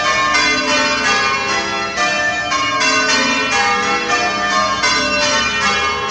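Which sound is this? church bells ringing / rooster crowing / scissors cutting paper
church bells ringing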